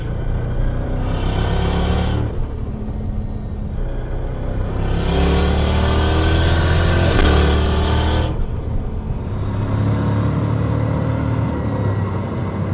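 A turbocharged 3UZ V8 Lexus GS accelerates on the highway under partial throttle. Its loud, continuous engine drone rises in pitch through two brief dips where the gears change, with no voices.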